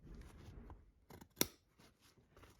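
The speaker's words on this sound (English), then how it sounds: "continue stitching or cutting across the stitching" Scissors snip once across the stitching of a leather tab on a two-slot credit card holder, a single sharp close cut among faint handling rustles.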